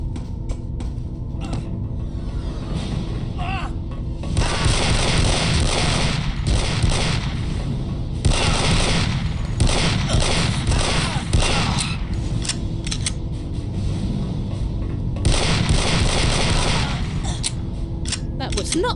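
Bursts of gunfire in the video game Aliens versus Predator 2, heavy repeated shots and rapid fire in clusters over a rumbling game background, loud and close, with a voice talking at points.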